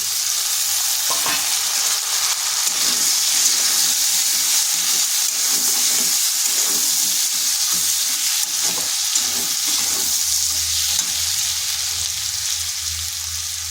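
Peas go into frying cabbage for a vegetarian cabbage dish and get stirred in the pan, giving a continuous loud sizzle with steady scraping and stirring strokes throughout.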